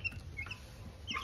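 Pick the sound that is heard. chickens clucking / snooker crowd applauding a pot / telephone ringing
chickens clucking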